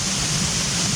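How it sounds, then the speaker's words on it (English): Steady broadband rush of McKenzie Brook Falls near Truro, Nova Scotia, a modest forest waterfall, heard up close as a constant, even roar filling the whole second with no voices. "It's not massive, but it's a nice looking waterfall"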